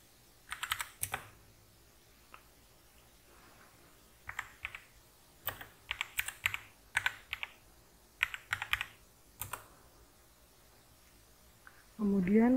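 A computer keyboard is typed on in scattered bursts of sharp clicks, close and quiet, with pauses between runs of keystrokes and a brief voice at the very end.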